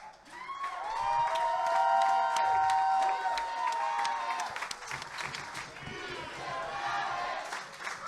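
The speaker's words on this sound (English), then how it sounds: "While I appreciate that chant" A large wrestling crowd at a New South event cheers and chants loudly, a sustained roar of voices with applause that rises, holds and then eases slightly.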